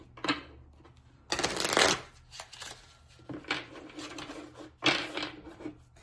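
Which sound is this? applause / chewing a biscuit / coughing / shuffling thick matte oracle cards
shuffling thick matte oracle cards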